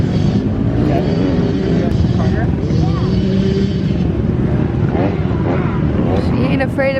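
Dirt bike circling laps on a dirt practice track, its engine droning steadily and loud throughout, with voices talking over it.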